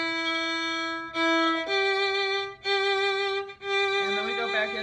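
Solo violin plays a short sustained transition passage from a film theme, a few long bowed notes changing pitch one after another, close and clear with no talking.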